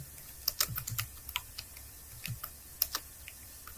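Keys tapped on a computer keyboard in irregular quick bursts with short pauses between them, close and fairly quiet, no voices.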